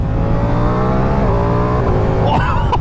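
A Ducati Diavel V4 motorcycle engine revs hard up through the gears on an organized ride, its rising note cut by quick-shifter upshifts and ending in a sharp crackle, loud and close throughout.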